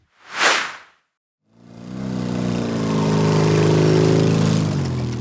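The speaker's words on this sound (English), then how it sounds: "Riding on dirt paths on his motorcycle, kicking up clouds of dust, Chris rode towards the ancient forests of B" A motorcycle rides along dirt paths toward the forests of Borneo: a sharp whoosh, a beat of silence, then a loud, steady engine drone that holds and rises slightly until the end, with no voices.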